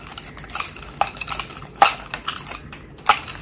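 Sharp scissors snip through plastic straws in a quick series of crisp, close cuts, several short clicks spaced irregularly with light clattering of straw pieces, and no talking.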